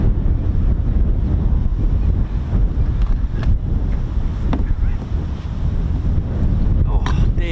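Strong wind buffets an outdoor microphone nonstop, a loud low rumble with gusty surges throughout, on an exposed coastal spot by a naval air station.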